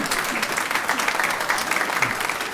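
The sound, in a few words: audience applause at an organ concert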